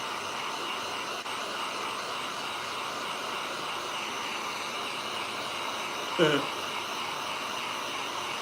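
Hair dryer blowing on chalk paint on a painted carrot patch sign, a constant close whooshing hiss that runs the whole time, with a brief knock or clatter near the end.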